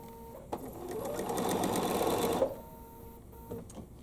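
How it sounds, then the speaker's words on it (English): A sewing machine stitches quilt pieces together in one steady whirring run of about two seconds, close and clear, with quiet handling noises before and after. "So we're just going to sew that one together."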